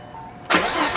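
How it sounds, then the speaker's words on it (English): A V6 Mustang on its stock intake cranks and fires about halfway through, then settles into a loud, close, steady run. "start up the car."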